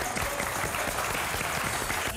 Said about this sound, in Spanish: Hay que aplaudirlo para